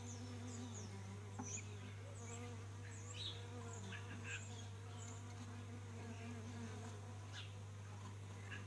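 Honey bees swarming around a nuc hive with queen cells buzz steadily outdoors, a dense continuous hum with brief individual bees zipping past close by, no talk.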